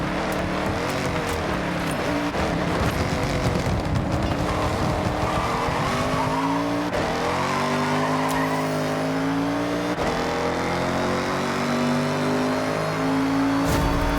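A car engine in Forza Horizon 6 revs and climbs through gears close up, its whine rising and falling steadily, with tire squeal mixed in and no talking.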